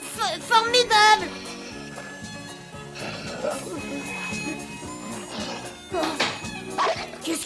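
Cartoon dog barks in bursts among busy music, hoof-like clatter and sound effects, with voices of animated characters talking in French throughout.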